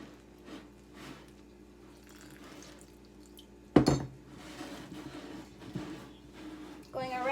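Flour and water are mixed into dough by hand in a bowl, with soft, irregular kneading and scraping, a sharp clatter against the bowl midway, and a voice speaking intermittently over it.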